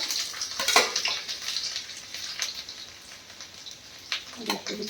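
Chopped garlic dropped into hot oil with cumin, frying with a soft close sizzle and a few spattering crackles and utensil clatters, faint and uneven.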